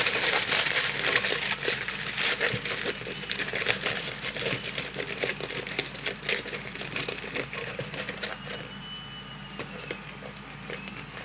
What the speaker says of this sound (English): I'm actually going to just pack this with aluminum foil to kind of give it a little bit of